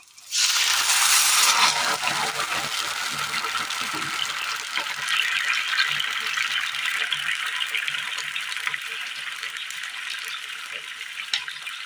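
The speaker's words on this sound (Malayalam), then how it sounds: "ഈ കളർ വന്നതിന് ശേഷം ഇതിലേക്ക് പുളി പിഴിഞ്ഞ വെള്ളം ഇതിലേക്ക് ഒഴിച്ചു കൊടുക്കാം" Tamarind water is poured into a hot frying pan and hits with a sudden loud sizzling hiss. The sizzle then settles into a steady bubbling crackle that carries on for several seconds.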